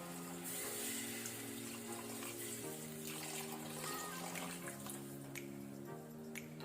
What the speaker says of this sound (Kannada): ಈಗ ನಾವು 3/4 ಲೀಟರ್ನಷ್ಟು ವಾಟರ್ ನೀರು ಹಾಕೋಣ